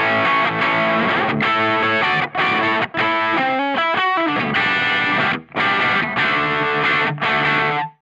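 Electric guitar through the Blues Driver overdrive model on a NUX Mighty Plug Pro, a run of crunchy chords and a quick single-note lick with short gaps, loud and close.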